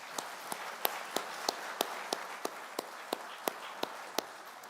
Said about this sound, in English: So please applaud the winners of the IW contest